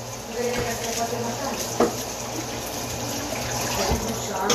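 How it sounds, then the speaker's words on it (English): Steady running tap water splashing in a sink as hands are washed, a continuous close wash of noise with faint background sounds and no clear talk. "let me wash my hands real quick"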